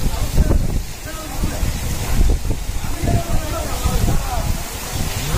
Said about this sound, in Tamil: சரி, சரியான காத்து